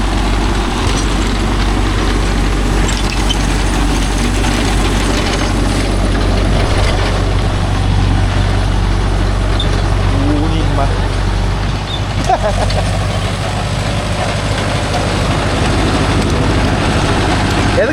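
Mahindra Yuvo Tech Plus 585 4WD tractor with a 42-blade Gomathi rotavator, engine running steadily and loud and close, a continuous low rumble under talk.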